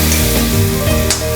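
Chopped tomatoes hit a hot pan of kadai chicken with a loud, continuous sizzle and crackle, close and alone for a brief moment.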